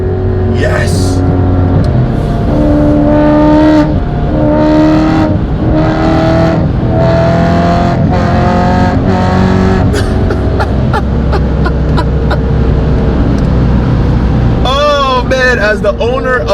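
A V8 BMW M3 engine roars loudly and continuously at close range, with rising revs broken by quick downshifts and throttle blips. A person talks excitedly over the engine throughout.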